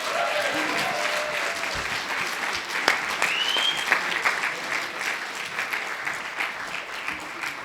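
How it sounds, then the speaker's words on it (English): Audience at a small comedy night clapping to welcome a comedian onstage, a steady ripple of applause with a few whistles and whoops on top, fading slightly toward the end. "So give him a nice round of applause."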